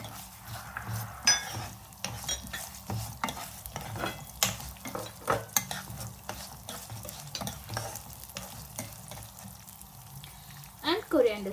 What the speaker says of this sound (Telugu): ఇవన్నీ యాడ్ చేసి కొంచెం సేపు సాట్ చేసుకున్నాము బ్రౌనిష్ కలర్లో అయ్యే వరకు